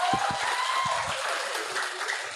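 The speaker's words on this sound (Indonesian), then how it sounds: "Oke, tepuk tangan yang meriah." Applause from the audience at a youth debate competition in South Kalimantan, Indonesia: a moderate wash of clapping with a few low voices underneath, lasting a couple of seconds.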